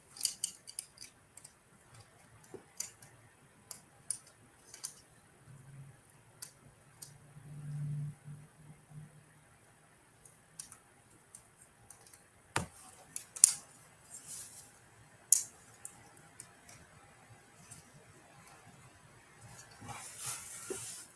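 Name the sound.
snapping, clicking of clipping toy parts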